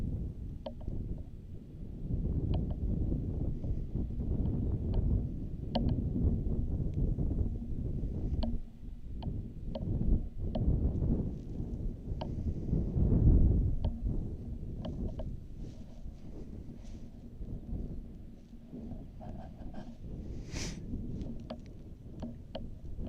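Wind gusts buffet the microphone at Amsterdam Airport, a low, rumbling, uneven roar that swells and eases continuously throughout, with faint clicks scattered over it and no voices.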